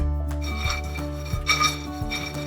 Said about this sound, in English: Stir or toss the pecans so they're toasted on all sides